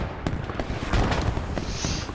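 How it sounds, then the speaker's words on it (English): Mortar shells burst in a video game battle as a series of dull booms and crackling impacts that follow one another over a short stretch, medium-distant against a busy background. "Mortar's already coming in."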